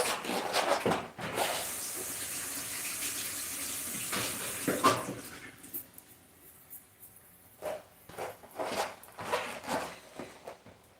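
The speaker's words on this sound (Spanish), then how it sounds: "Vamos a lavar estos 3 corazoncitos." Water runs from a kitchen tap while three lettuce hearts are washed, a steady splashing stream that stops partway, followed by intermittent handling noises.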